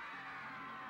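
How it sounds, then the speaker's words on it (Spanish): An audience in Somoto cheers and applauds for contestant Betty Palma, a dense, steady roar of whoops and shouts filling the whole second at close range. "El aplauso para Betty Palma."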